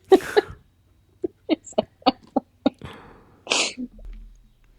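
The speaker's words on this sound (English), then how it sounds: "I think I sneezed before." A sharp sneeze bursts out, followed by a string of short, quick vocal sounds and a second breathy burst near the end.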